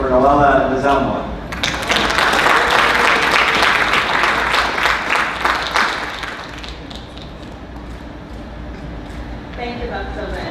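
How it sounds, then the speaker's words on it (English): An audience at a drug education event gives a round of applause, dense loud clapping that swells after a brief voice, peaks, then thins out as speech resumes at the end. "So I want for all of us to give a nice round of applause for Lualaba and Zamwa."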